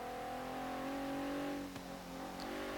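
Twin-turbo V6 of a 2016 Cadillac ATS-V in Forza Horizon 3, a steady sustained engine drone holding revs with a slight dip near the end, faint and alone.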